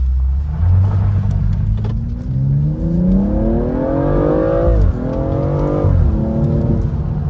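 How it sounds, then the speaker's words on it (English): Car driving along the only access road at the Newcrest Cadia gold mine in New South Wales, its engine droning loud and close throughout and rising in pitch as it accelerates, with gear-change dips along the way. "And we drive through the road instead."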